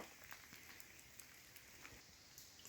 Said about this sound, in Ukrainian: І дощик пішов.